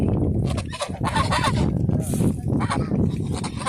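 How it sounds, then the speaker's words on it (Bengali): Domestic geese honk in loud, overlapping calls close by in a Bangladeshi village setting in Kishoreganj, mixed with clucking fowl and some talk. "রাজহাঁস কেমন করে ডাকতেছে তাদের চলে ডাক"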